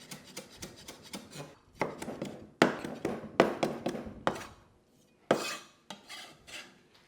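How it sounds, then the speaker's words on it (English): Woody lemongrass stalks are bashed, then sliced on a chopping board for a Vietnamese beef stew paste. Close, sharp thuds and chops come in irregular bursts with short quiet gaps. "Lemongrass can be quite woody, so you do want to bash it well before slicing into it."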